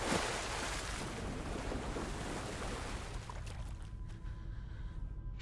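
Water sloshes and churns around a character wading in the horror game Alan Wake 2, a dense continuous wash close by that gradually thins and fades toward the end.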